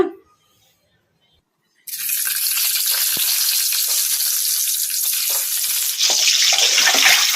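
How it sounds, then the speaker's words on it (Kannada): Eggs fry in oil in a kadai over medium flame, a loud, steady close-up sizzle that starts abruptly after a brief near-silence and swells brighter toward the end. "ಮೊಟ್ಟೆಯನ್ನು ಮೀಡಿಯಂ ಫ್ಲೇಮಲ್ಲಿ ಈ ಥರ ಕಲಿಸ್ಕೊಂತ ಫ್ರೈ ಮಾಡ್ಕೋಬೇಕು"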